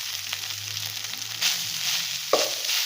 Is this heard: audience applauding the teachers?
no